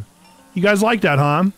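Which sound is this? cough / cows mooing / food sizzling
cows mooing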